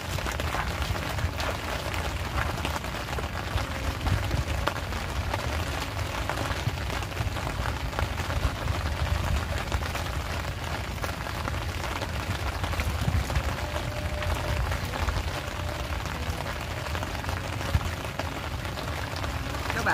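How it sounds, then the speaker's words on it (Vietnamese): Heavy rain at an outdoor fishing spot pours steadily, a dense, loud hiss of drops that holds constant from start to finish. "Mưa quá chịu không nổi"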